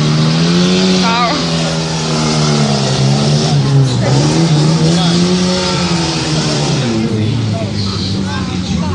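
A competition car runs a gymkhana course, its engine revving up and down in rising and falling sweeps with tire squeal. An announcer talks over it continuously.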